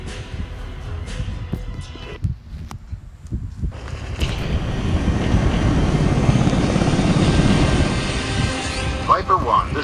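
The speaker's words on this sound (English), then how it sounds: "There it is, my Thunderbird drone!" A Thunderbird drone in the video game Drone 2 Air Assault launches, its engine swelling from a quiet start into a loud, steady rotor roar that holds to the end.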